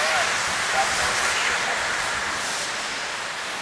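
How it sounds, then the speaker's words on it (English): Snow making machines on a ski mountain give off a steady, broad hissing roar, loud and unbroken throughout, with no speech over it. "That's the sound of snow making"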